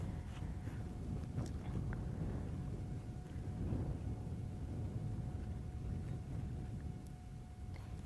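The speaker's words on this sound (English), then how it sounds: "this wind has suddenly come billowing out of nowhere. So that's what you're hearing, gusting over the plains" Steady wind gusts sweep across open African plains during an evening safari, a broad continuous rush and rumble that stays constant throughout with no voices.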